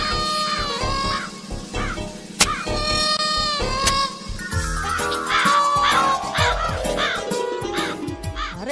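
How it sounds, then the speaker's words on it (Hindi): Crows caw loudly and repeatedly nearby, harsh overlapping calls in an outdoor scene with a vehicle horn and engine noise underneath. "कौवा काव काव कर रहा है"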